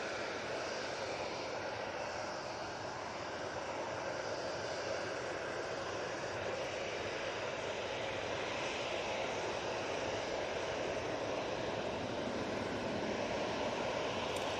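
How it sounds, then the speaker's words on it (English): An Aer Lingus propeller airliner from Belfast touching down on runway 23 right at Manchester Airport, heard as a continuous, fairly distant broadband engine drone with no speech over it. "Aer Lingus Etihad touching down on 23 right"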